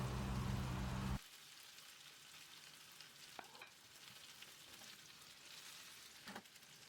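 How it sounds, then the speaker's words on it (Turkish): Meatballs fry in a pan with a steady crackling sizzle that runs throughout, dotted with occasional sharper pops; a low humming noise opens the first second before cutting off abruptly. "Evet köftelerim yeteri kadar kavruldu."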